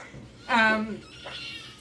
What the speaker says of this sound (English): I have a kitten climbing my leg